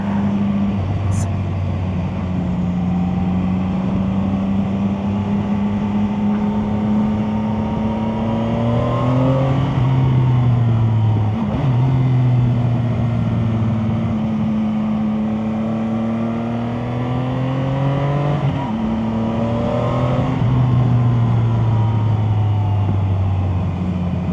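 A CFMoto 675 motorcycle engine hums steadily while riding, with its pitch rising and falling as the throttle opens and eases back, loud and close throughout, with a brief voice early on.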